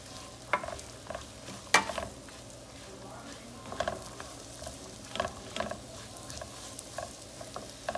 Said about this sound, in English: We're going to put it in our butter and fry it down for a little bit.